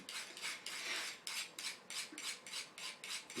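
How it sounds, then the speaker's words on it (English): A knife is drawn repeatedly through a handheld sharpener, shaving off metal, making about ten rhythmic rasping strokes in steady succession, close and fairly loud with no talking. "I know people have concerns with this sharpener about how much metal you remove"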